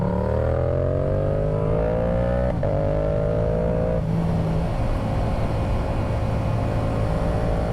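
A Yamaha R7 motorcycle with an FTECU tune rides along, its engine note rising through gears with a loud, steady roar and wind rush heard from the rider's position.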